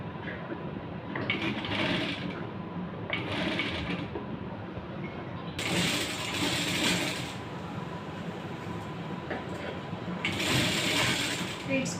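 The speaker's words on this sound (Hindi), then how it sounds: "अब मैं इसके ऊपर पूरे में सिलाई लेके इस प्लेट्स को अपने पट्टे के साथ अटैच कर लूँगी।" A sewing machine runs in several bursts, stitching the pleats of a Patiyala salwar onto its waistband, with someone talking underneath throughout.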